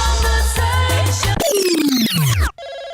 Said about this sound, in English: Phone's ringing, baby.